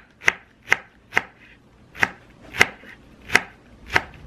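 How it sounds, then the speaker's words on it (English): Eight sharp, evenly spaced knife strikes slicing onions on a cutting board, each a crisp close-up thunk with quiet gaps between, alone without talk. "And then we'll just slice them like this."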